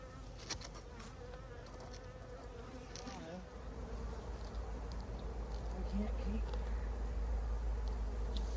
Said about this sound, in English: and a lot of bees.